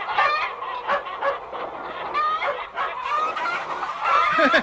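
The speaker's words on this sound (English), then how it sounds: "Shooing the hens into the roost." A flock of hens being shooed into the roost clucks and squawks in a busy, agitated clamor, with overlapping calls close by.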